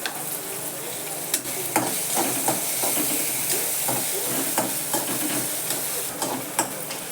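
Onions and green chillies frying with soaked mung lentils give a constant sizzle under repeated scraping strokes of a spoon in the pan, loud and close.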